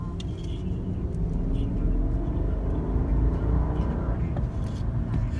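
A Rolls-Royce Ghost accelerating, heard from inside as a deep, steady engine and road rumble that swells slightly, with faint occasional clicks and no talk.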